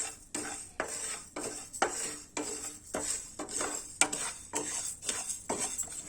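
Dry ingredients roasting in a pan for a health drink powder, stirred with a metal spoon in a brisk regular rhythm of scraping clinks against the pan, close and moderately quiet, with no voices.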